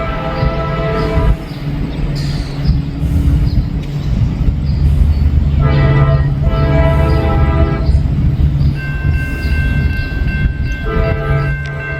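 M559 freight train passing at a Wyoming grade crossing, a heavy continuous rumble of rolling wagons close by, with several long loud horn blasts sounding over it and a steady bell-like tone later.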